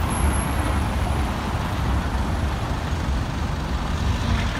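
Heavy city street traffic on a busy Friday, with trucks and buses rumbling close by, makes a steady loud engine drone and road noise, with a faint high hiss of air brakes and no one speaking.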